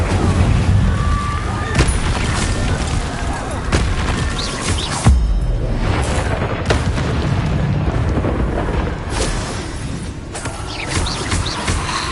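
Incendio fire spells cast in the video game Hogwarts Legacy burst out again and again as loud, booming blasts of flame, layered over dense ongoing combat noise.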